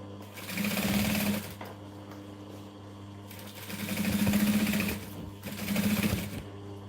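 Sewing machine back stitching fabric for a business bag, three loud runs of rapid whirring stitches separated by brief pauses, close up with no talking.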